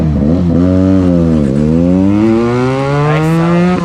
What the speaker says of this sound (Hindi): Yeah, that is my bike with Akrapovic exhaust.